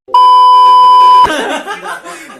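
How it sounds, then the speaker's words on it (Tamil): A loud censor beep sounds as one steady pure tone for about a second, cutting off abruptly before quieter talking follows. "இதுக்கெல்லாம் பீப் போட்டுரு."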